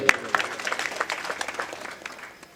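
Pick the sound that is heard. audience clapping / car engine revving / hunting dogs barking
audience clapping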